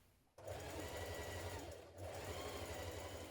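Sewing machine stitching the shoulder seams of a cocoon dress, a steady close motor whir with a brief pause partway through, then resuming; no talking.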